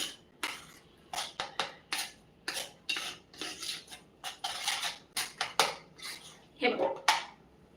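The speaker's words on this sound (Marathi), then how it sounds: "मिक्स करून घेऊयात व्यवस्थित" A spoon stirs moong dal appe batter in a bowl, making a quick series of close, quiet scraping and clinking strokes in an uneven rhythm.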